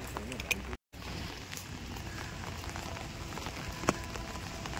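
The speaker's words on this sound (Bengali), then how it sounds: "বলবি বৃষ্টি পড়ছে," Heavy rain pours down steadily at an outdoor weekend outing, a dense, even hiss with occasional drips and faint background voices, moderately quiet throughout.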